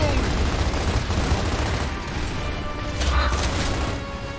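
Gunfire from the video game Gears of War crackles in dense, continuous bursts with explosive impacts, mixed into a busy battle soundscape at moderate level.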